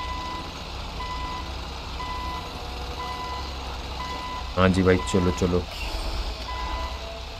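A tow truck backing up in GTA V sounds a steady, evenly spaced reversing beep over engine rumble, with someone talking briefly partway through.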